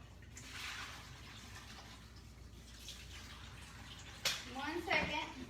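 Tap water running into a kitchen pan at home, a soft steady trickle and splash that turns brighter and louder near the end as the pan fills.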